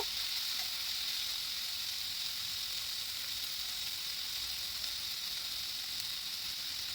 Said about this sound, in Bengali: পেঁয়াজটা দিয়ে মাঝারি আছে দেড় দু মিনিটের মতো একটু নেড়ে চেড়ে নরম করে নেব